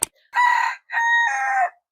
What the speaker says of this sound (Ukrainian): У наших сусідів є такі чудові курочки.